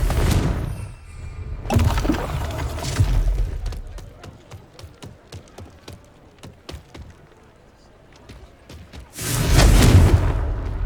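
Confringo fire spells bursting in the Hogwarts Legacy video game: a heavy boom opens, then a run of sharp crackling pops and debris clicks, and a second loud booming blast lands near the end.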